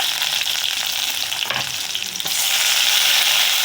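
Onions and curry leaves sauté in hot oil for an eggplant kuzhambu, a loud, close, steady sizzle that swells louder midway with a brief stirring scrape; no voices.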